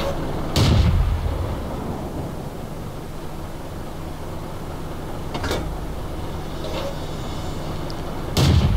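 Tank cannon fire in a video game strikes enemy armor: three heavy booming shots, one near the start, one midway and one at the end, over a steady low background drone.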